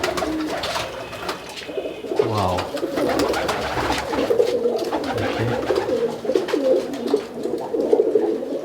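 Pigeons coo steadily in a large home loft in Murshidabad, a dense murmur of low, rolling calls with soft wing and shuffling noises, and a man briefly exclaims once.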